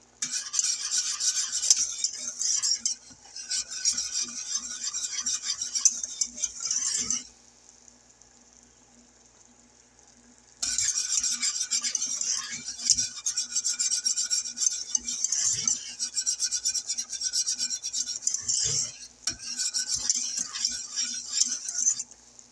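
Maple cheesecake mixture stirred constantly in a pot over medium heat at a low boil, a steady scraping and rasping of utensil against the pot that stops for a few seconds and then resumes.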